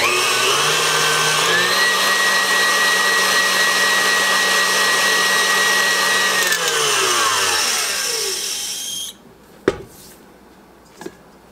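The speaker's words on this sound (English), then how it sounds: "It always amazes me how beating the egg whites changes the whole" An electric mixer beats egg whites for cloud bread, a steady loud motor whine that shifts pitch up and down before winding down and stopping, followed by a couple of sharp knocks.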